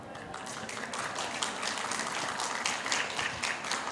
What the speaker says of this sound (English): one big round of applause for all of the panelists and also the moderator